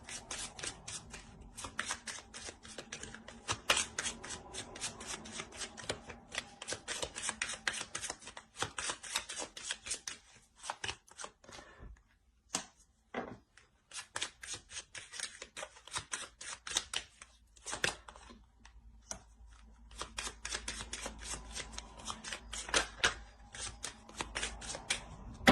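Tarot cards being shuffled in long rapid riffling bursts, crisp dense flutters with a few short pauses and soft taps between runs, close and fairly loud with no talking.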